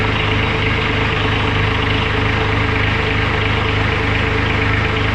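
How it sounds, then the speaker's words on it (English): A Kubota B2601 compact tractor engine idles close by, a steady, loud diesel rumble with an even pulsing beat and no change in speed, with no voices over it. "if we turn the tractor back on"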